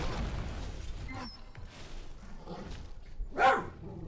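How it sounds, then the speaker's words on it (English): A pet dog in the room gives one short bark over a quiet background hum of a video game. "Was that Trico barking? That was my dog."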